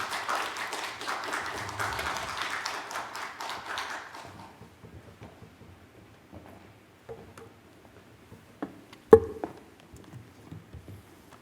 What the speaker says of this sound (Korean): 박수 좀 보내주시기 바랍니다